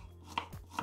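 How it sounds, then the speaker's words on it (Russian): A knife slices a medium onion into half rings on a cutting board, two crisp knocks a fraction of a second apart, close and quiet. "Берем одну среднюю луковицу и нарезаем на полукольца"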